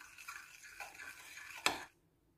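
Flour being stirred into a mixture for chicken bread, a soft scraping churn of a spoon against a bowl repeated for about two seconds, ending in one louder clink before stopping.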